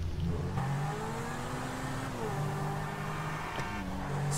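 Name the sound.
car engine revving in video game GTA V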